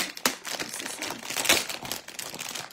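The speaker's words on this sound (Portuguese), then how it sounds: "Eu vou abrir aqui a embalagem, fazer aquele barulhinho" Plastic packaging of a kitchen egg gadget being opened, giving close, continuous crinkling and rustling with a few sharper crackles.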